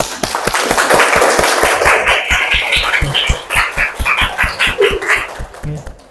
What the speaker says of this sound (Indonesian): Jadi Pak Doni minta aplaus yang keras sekali.